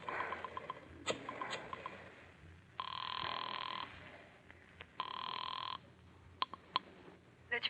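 A telephone rings twice in a 1950 radio drama, each long buzzing ring close and clear, preceded and followed by faint clicks of the receiver and dialing.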